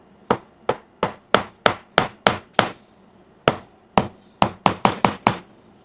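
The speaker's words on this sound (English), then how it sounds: "I just tried to hammer it, not like completely, but somewhat secure" A hammer drives fasteners into a picture frame being readied for a cross stitch piece, a run of about fourteen sharp, close taps in an uneven rhythm with a brief pause midway, no talking.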